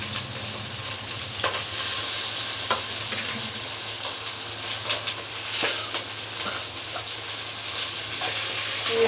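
Drumsticks, onion and tomato frying in a pan for a rajma sambar, a steady close sizzle with scattered stirring clicks and scrapes throughout, no talk.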